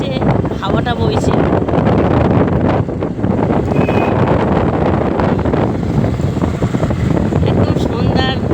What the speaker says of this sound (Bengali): হয়তো আমার কথা কেউ শুনতে পাবে না, কারণ হচ্ছে হাওয়াটা বইছে